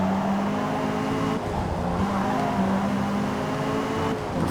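Race car engine in Forza Motorsport holds a steady, loud drone with shifting pitch as it runs flat out, tire squeal and skidding mixed in throughout, no talking.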